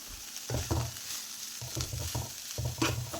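A spoon scrapes and stirs spring onion stalk thoran in a pan, giving several short rhythmic bursts of scraping over a quiet sizzle, close up and fairly faint.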